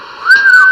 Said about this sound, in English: Marvin, you have a weak whistle